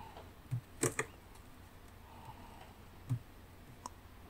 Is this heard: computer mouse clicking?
yes